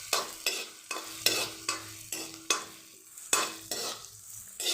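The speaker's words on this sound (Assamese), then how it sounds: "এইখিনি এতিয়া ৰঙচুৱা হোৱা পৰ্যন্ত আমি ভাজিম" Onions and freshly cut green chillies fry in a pan with repeated stirring strokes, roughly one sharp scrape every half second over a steady sizzle, close and clear with no voices.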